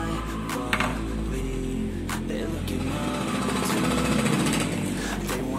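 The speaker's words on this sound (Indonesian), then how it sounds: "Kita coba hidupkan motornya ya" Honda Astrea motorcycle engine runs at a steady idle with a rapid, rattly putter, heard up close with a low rumble and occasional clicks.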